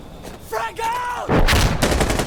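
Gunfire bursts in the shooter game Insurgency Sandstorm after a frag grenade is thrown, with a sharp loud blast and crackling shots in quick succession, close and dense.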